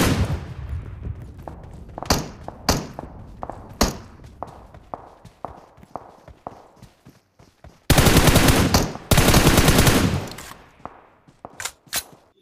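Automatic gunfire in a PUBG Mobile battle, with sharp repeated shots spaced through the clip and two long, dense sustained bursts in the middle, loud and close, with no talk.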